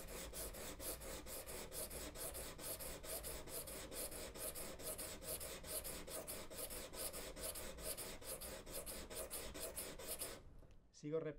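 A chip carving knife stroked back and forth on sandpaper, a quick regular rasping rhythm of many close strokes that runs steadily and then stops near the end.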